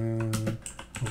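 Quick keystrokes on a computer keyboard while personal details are entered into a form on Windows, heard as a short close burst of clicks following a steady tone.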